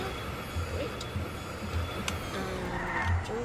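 Car in the Roblox Jailbreak game skidding and revving, loud engine drone with brief tire squeals and rising whines, heard close with light background sounds.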